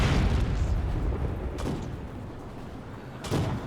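Deep booms of a mortar barrage falling on a wooden building in the World War II strategy game Company of Heroes 2, one heavy blast at the start and another near the end over a rumbling battle background.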